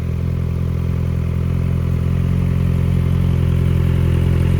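A 2019 Kawasaki Z900RS Cafe motorcycle engine idles steadily and close by, with a low, even rumble and a faint mechanical clatter throughout and no one speaking.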